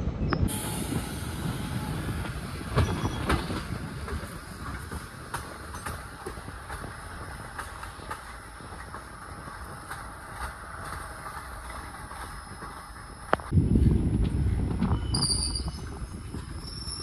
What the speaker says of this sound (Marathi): आपली ट्रेन आलेली आहे चित्तापूर रेल्वे स्टेशनला